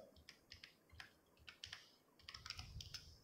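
Quiet, close keystrokes tap on a computer keyboard in an uneven rhythm, a quick run of soft clicks with short pauses between bursts.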